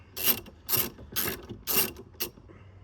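A long-shaft ratchet loosens a fuse box screw on an 80 series Land Cruiser, giving five close, crisp clicking bursts spaced about half a second apart, with no talking.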